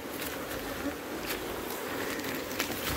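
Africanized honeybees buzz continuously around an open hive during handling in Trinidad, a dense, steady hum of many insects close by.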